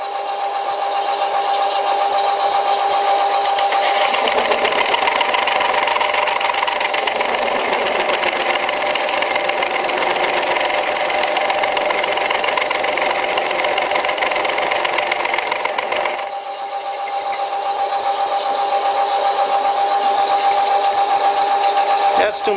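An old WW2 Fischer lathe driven by a small motor pulley, running with a loud, steady mechanical whine and rattle, a tonal hum throughout that dips briefly partway before resuming.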